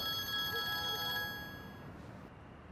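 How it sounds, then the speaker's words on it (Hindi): A telephone rings with a bright electronic tone that holds for about two seconds and then cuts off, leaving quiet room noise. "बारिश का फोन है। उठा लो ना"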